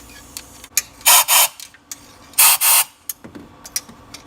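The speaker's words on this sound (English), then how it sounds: "take some shop air and just blow it into the spark plug well" Compressed shop air is blown into the spark plug wells of a Ford 6.2 engine in two strong hissing bursts, each roughly half a second, separated by clicks and light handling noises, with no talk.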